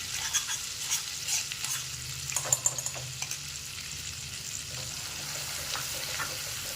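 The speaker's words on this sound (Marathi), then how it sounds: "कमी आप आचेवर आपल्याला हे चांगलं परतून घ्यायचं आहे वाटण आपलं जोपर्यंत परतच नाही चांगलं तेलामध्ये" Ground masala paste sautéing in oil on a low flame for veg Kolhapuri, a continuous close sizzle broken by a few scraping stirs and light clatters, with no voices.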